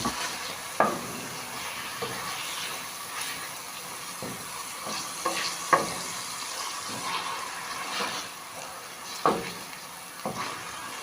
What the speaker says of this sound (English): After stir frying the onions for about 2 minutes, I'll then add my chicken breast here